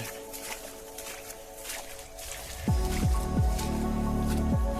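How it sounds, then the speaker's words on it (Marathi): Squelching, sloshing footsteps wade through water on farmland, several steps in an uneven rhythm, close by over a steady outdoor background. "पूर्ण पाण्यात चालत आहे"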